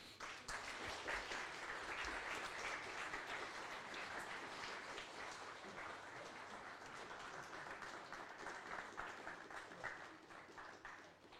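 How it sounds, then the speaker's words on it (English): Sustained audience applause fills the space at a conference presentation, a dense, even wash of many hands clapping that holds steady throughout with no talk over it. "the audience, please give them another round of huge applause"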